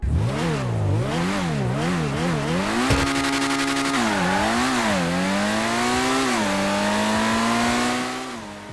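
Benefactor Krieger supercar, a game car modelled on the Mercedes-AMG One, driven in GTA 5 with a loud, close engine repeatedly revving up and down through gear shifts, then holding a steadier high drone before easing off.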